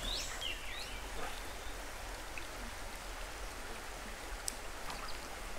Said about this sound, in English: When it's kind of muggy and it's raining.